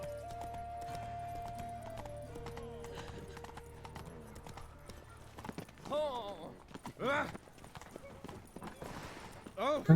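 Roach, Geralt's horse in The Witcher 3, clip-clops at a steady walk through a city street, hooves ringing fairly close, with a whinny and a voice talking over the steps.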